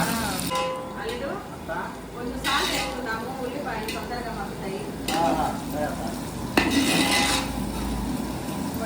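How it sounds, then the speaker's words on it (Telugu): Thinly sliced onions fry and are stirred in a pot on a home stove, a steady close sizzle broken by repeated scraping strokes of a spoon, with a person talking throughout. "అవన్నీ వేసి ఉల్లిపాయలు వేసేస్తా"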